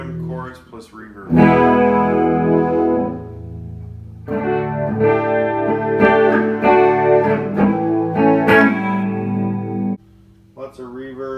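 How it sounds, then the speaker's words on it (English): Electric guitar played through a Peavey Mystic amp on the bridge pickup with slow chorus and reverb, ringing sustained chords with a shimmering, spacious tail, broken by brief pauses. "So it's a slow trim chorus plus reverb."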